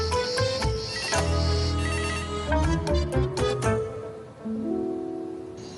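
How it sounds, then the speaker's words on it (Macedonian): A telephone rings with a loud, repeating electronic melody that carries on for several seconds, then drops to a quieter, steadier tone before fading, with no voices over it. "Телефонот звони."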